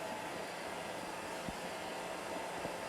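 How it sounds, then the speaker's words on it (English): A steady, even blowing roar of a heat gun melting chocolate runs throughout, broadband and constant, with a couple of faint low thumps near the end. "The heat gun is a lot hotter than the hairdryer."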